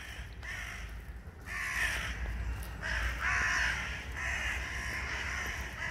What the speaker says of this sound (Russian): Предлагаем вам послушать утренний концерт Вороньего хора.